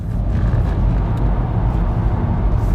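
Front-wheel-drive VW Golf on budget tyres, a loud close rumble of engine and road noise that runs steady through the whole moment with no talking.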